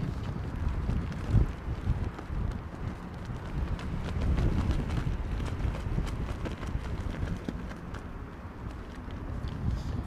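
Storm Darragh wind buffets a microphone at London Heathrow Airport, giving a loud, continuous rumbling roar with irregular gusty thumps and crackles throughout.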